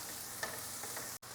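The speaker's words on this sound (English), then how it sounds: "we're going to saute this for about 2-3 minutes until it get kind of cooked" Chopped onions sauteing in oil in a pan for paella, a soft, steady sizzle with a few faint stirring scrapes, heard close and quiet with no talk over it.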